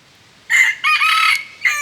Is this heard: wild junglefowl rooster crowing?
yes